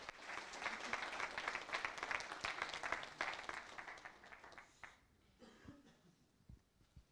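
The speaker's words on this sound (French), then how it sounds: "veuillez les applaudir chaleureusement" An audience at a French conference on direct seeding gives dense, sustained applause for about five seconds, then it thins to a few scattered claps and small noises.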